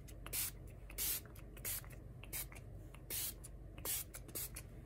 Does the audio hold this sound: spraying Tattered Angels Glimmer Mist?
yes